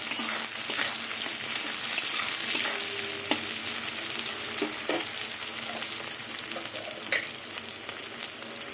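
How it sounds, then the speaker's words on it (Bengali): Onion half-frying in oil with slit green chillies for a Bengali taro-stolon (kochur loti) curry, a continuous close sizzle with occasional stirring scrapes and small pops. "এবার পেঁয়াজটা ভেজে নেবো পেঁয়াজ কিন্তু লাল করবো না পেঁয়াজটা আমি হাফ ভাজবো"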